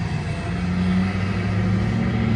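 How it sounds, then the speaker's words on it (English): Traffic rumbles past on a nearby road as trucks drive by, a steady loud engine drone with a low hum and tonal whine holding the whole time, no talk. "I'm trying to let all these trucks go by. They're so loud, so annoying."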